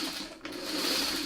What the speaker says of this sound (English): you want to sew these all the same way.